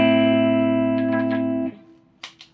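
Electric guitar through a wet/dry rig with a cheesy chorus effect, a held chord shimmering steadily before cutting off, followed by a couple of brief picked notes, loud and alone.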